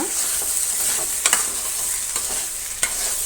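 Okra gojju stirred in a pan, a steady broad sizzle with a few sharp spoon scrapes and clinks against the metal, close and fairly loud with no voices.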